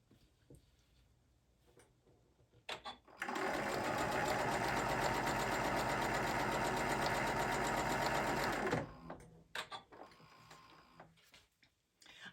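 A sewing machine stitches a purse in one continuous loud run of several seconds, with quiet handling sounds and brief taps before and after.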